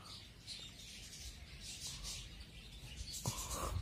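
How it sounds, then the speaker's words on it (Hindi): Pigeons coo and flutter faintly amid soft outdoor ambience, with a sharper flap or rustle near the end; no speech. "सब हमारे कबूतर आ चुके हैं,"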